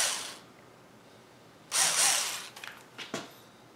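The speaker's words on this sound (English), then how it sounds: "you could always bust out like a little countersink bit like this and just nip it" A small countersink bit trims and deburrs a freshly drilled fourth hole on a TLR 22 2.0 RC buggy: one close whirring burst of about a second, followed by a few short grinding nips.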